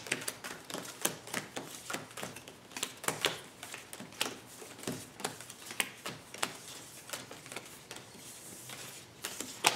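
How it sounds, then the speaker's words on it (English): A pack of Magic: The Gathering cards mixed with land cards is shuffled by hand, a fast run of crisp riffling clicks and flutters repeating steadily throughout, close and with no talking. "I'm going to shuffle my pack and my lands."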